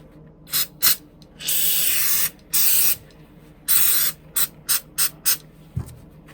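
Break-Free CLP cleaner lubricant hisses from a spray can onto a knife, starting with a couple of short puffs, then two long sustained sprays and a string of quick bursts, close and clear.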